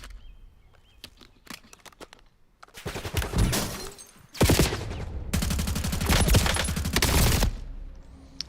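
Automatic gunfire in Call of Duty Warzone on the Verdansk map: scattered single shots, then long sustained bursts that come loud and close, breaking off briefly before a second extended volley.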